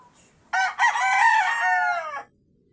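A Sweater Hatch gamefowl rooster crows once, loud and close, in a long drawn-out call against a quiet background.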